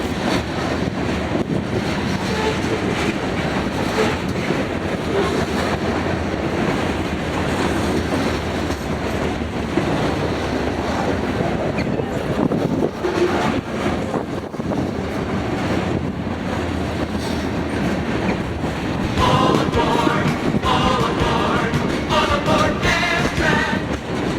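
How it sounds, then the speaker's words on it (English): CSX manifest freight train with an Amtrak boxcar rolling past in Lakeland, a long continuous rumble and clatter of railcars close by, with wind buffeting the microphone throughout. "that was a Amtrak boxcar on this CSX manifest"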